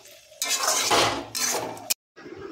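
A pot of curry is lifted off a home stove: clattering metal pot and utensil scrapes in two bursts, a sharp clank, then a short silence and faint kitchen rustle.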